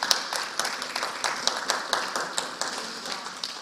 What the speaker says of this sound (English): we just want to extend a round of applause for Dr.